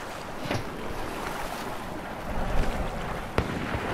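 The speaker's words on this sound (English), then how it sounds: "I'm doing the breaststroke across the whole river." Swimming the breaststroke across a river in Battlefield 4, a steady wash of splashing, churning water with a couple of sharper splashes, close and fairly soft under rushing wind-like noise.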